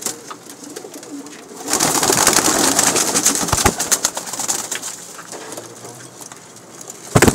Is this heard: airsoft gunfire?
no